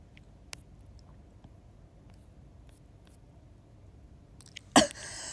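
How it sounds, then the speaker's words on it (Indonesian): A single dry, itchy cough bursts out close and sharp near the end, after a few seconds of quiet room noise. "Aku lagi batuk."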